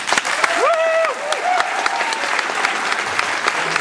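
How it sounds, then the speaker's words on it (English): An audience applauds at a 2010 Sun Sentinel political debate, loud, close, steady clapping throughout, with a brief voice sounding over it early on. "Hold your applause till the end of the debate, please."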